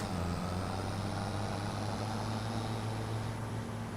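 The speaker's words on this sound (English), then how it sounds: "my tractor can barely pull this 6-ton trailer" Steady droning engine hum of a tractor straining to pull a 6-ton trailer in Farming Simulator 25, a constant low rumble with tonal whine, close and unbroken.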